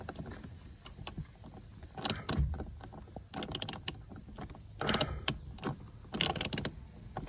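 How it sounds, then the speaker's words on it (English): Tightening a bolt while installing a driver-side grab handle in a Toyota Tacoma: close, intermittent ratcheting clicks and metallic clatter in short bursts with quiet gaps between. "So I'm gonna tighten this down a little bit more,"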